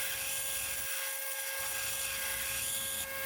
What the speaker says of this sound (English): I will grind all the way to the center line at a steep angle.